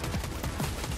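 Gunfire in the Fortnite video game sounds as a quick burst of several rapid, punchy shots in close succession, loud and alone.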